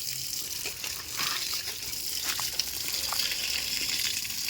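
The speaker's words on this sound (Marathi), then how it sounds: "पाणी मारून घेऊया याला काय रोज लागतं म्हणा ते बारीक नळ चालू करून ठेवलं" Water sprays from a thin garden hose onto small plants, a continuous soft splashing rush with scattered patters and drips, fairly close and steady with no talk.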